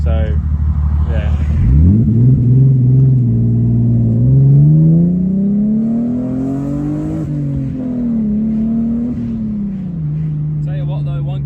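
A BMW E36 car pulls hard from first gear, its engine note climbing and falling through the revs up close, while a person talks over it.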